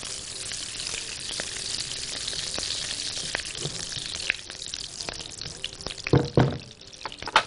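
Minced meat frying in a spoonful of local ghee for a béchamel pasta dish, a steady soft sizzle close by, then a burst of louder crackling and clatter near the end, with no talking.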